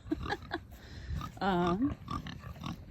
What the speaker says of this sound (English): Here we've got our meat pigs.